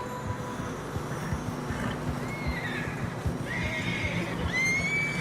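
Rhythmic clip-clop of hooves through fresh snow runs throughout Red Dead Redemption 2 while horses neigh and whinny several times, the last cry rising loudly near the end.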